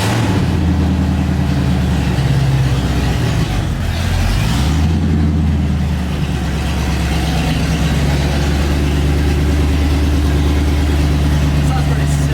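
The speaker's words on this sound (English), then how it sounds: "So I think it's time for a startup. Off-road H-pipe only." Foxbody Mustang V8 running open headers with an off-road H-pipe only, a loud, deep, rumbling idle close by with a slight surge partway through, people talking over it.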